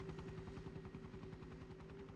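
A helicopter in the Resident Evil PS1 video game drones steadily with a rhythmic rotor chop, heard faintly and alone for the whole stretch as it flies off.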